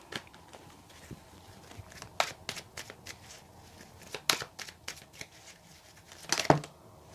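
Tarot cards are shuffled up close in repeated quick, crisp bursts of riffling and slapping, with short pauses between, and no one speaks.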